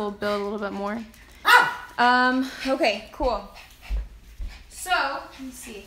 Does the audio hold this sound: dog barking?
yes